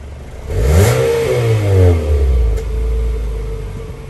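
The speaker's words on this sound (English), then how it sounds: "All right, hit the gas." 2020 Nissan Altima SR engine revving close by, rising into a loud surge, holding, then easing back to a steady rumbling idle, heard alone.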